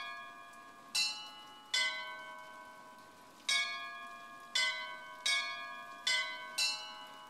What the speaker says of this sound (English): So I have to ring the bells like the card.